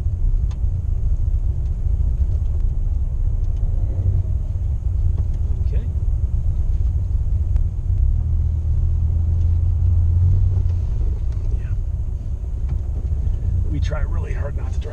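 Dodge Viper driving slowly on a dirt road, a constant deep engine and tire rumble close by, with faint crunches and rattles over the gravel and no clear speech.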